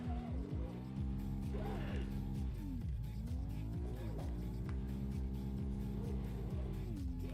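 A car drifting in the racing sim Assetto Corsa: a loud, continuous engine roar whose pitch sweeps up and down through gear changes, with tire squeal layered over it throughout.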